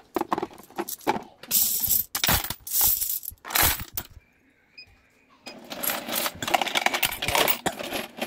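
A coin counting machine sorts coins emptied from a piggy bank, giving a dense, loud rattling clatter in bursts, a brief pause, then more steady clinking and whirring.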